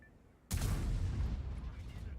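A heavy tank gun in World of Tanks fires one loud, booming shot that hits suddenly and rolls on as a long, rumbling echo after a short quiet lead-in.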